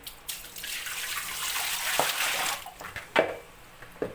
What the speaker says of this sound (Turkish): Pirincin şeffaf suyu çıkana da yıkadım.